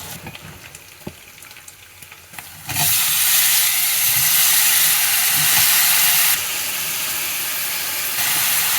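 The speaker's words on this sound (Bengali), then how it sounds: "পেঁয়াজ আর কাঁচামরিচ একটু ভেজে নিলাম।" Onion paste, sliced onions and green chillies go into hot oil. After a few quiet seconds with light clicks, a loud, close hissing sizzle bursts in and holds steady, dipping a little near the end.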